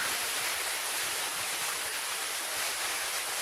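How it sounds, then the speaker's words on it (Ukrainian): Lykhyi waterfall in the Rakhiv area pours down a rock face, a steady, close, full rushing roar of falling water that stays unbroken throughout. "ми прийняли душ у цьому красивому водоспаді"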